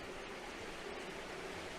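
Hidden running water of the Lost River in the autumn Blue Ridge Mountains, a quiet, even, unbroken rushing hiss heard at a distance with no talking.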